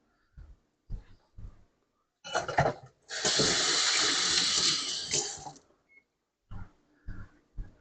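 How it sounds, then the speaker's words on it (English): Hands being washed under a running kitchen tap: short splashes of water first, then a steady loud gush for a few seconds that cuts off, followed by a few more brief splashes and drips, close and without speech. "gotta wash my hands though"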